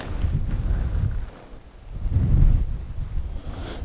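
Low rumbling wind buffets the microphone in uneven gusts, swelling and easing across the few seconds with no voices.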